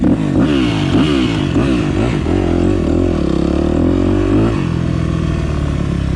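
A 2008 Yamaha YZ250F dirt bike engine runs loud and close, revving in rough repeated bursts for several seconds before settling into a steadier, lower idle near the end.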